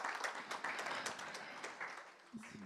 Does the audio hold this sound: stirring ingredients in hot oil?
no